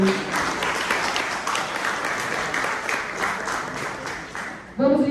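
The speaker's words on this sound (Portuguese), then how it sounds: "Uma salva de palmas para a Cris também." Audience at a housing and land regularization seminar claps steadily for several seconds, a dense broadband patter of many hands, with a voice cutting in near the end.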